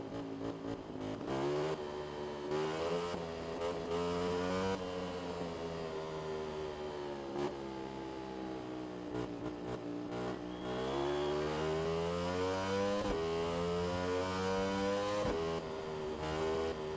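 A Ducati motorcycle engine in the RiMS Racing video game revs loud and steady, climbing and dropping through gear changes with sustained high-pitched whine, alone without talk.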